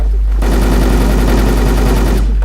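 Rapid automatic gunfire rattles continuously through a Turkish online shooter clan-war match, a dense loud burst lasting about two seconds before cutting off.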